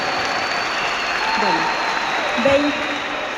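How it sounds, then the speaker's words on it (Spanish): A congregation at a Catholic question-and-answer session with a priest applauds a woman in a steady, even wash of clapping, while a voice speaks briefly over it. "Un aplauso para esta hermana."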